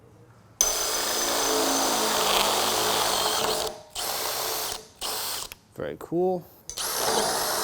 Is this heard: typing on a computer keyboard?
no